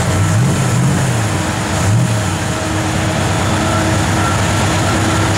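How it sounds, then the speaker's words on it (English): A 1966 Chevrolet Corvette convertible's engine idles loud and close with a steady low rumble, then gets two brief revs that rise and fall near the start before it settles back to idle. "Give it a little rev, Jordy."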